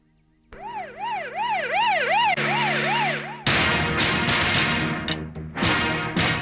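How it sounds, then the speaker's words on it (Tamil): A loud wailing ambulance siren rises and falls repeatedly, then switches to a rapid yelping pattern, close by with traffic rumble underneath. "இந்த ஆம்புலன்ஸ் அடிக்கடி வருதே"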